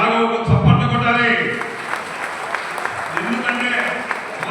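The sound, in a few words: applause for the leader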